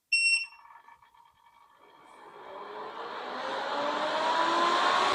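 A MelodySusie SProF nail dust collector gives a brief beeping startup tone, then its fan spins up into a steadily rising, loud whirring whoosh that grows stronger over several seconds, close by with no talking.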